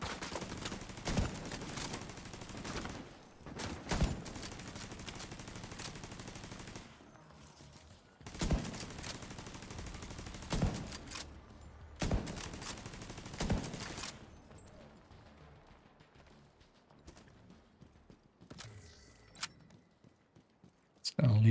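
Sniper rifle shots ring out in a video game, sharp isolated cracks spaced irregularly with quieter stretches and background game sounds between them.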